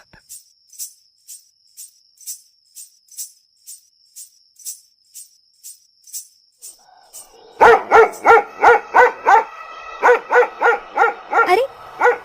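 A dog barks repeatedly and rhythmically, starting as a light distant yapping, then growing much louder and closer with deeper, rapid barks toward the end.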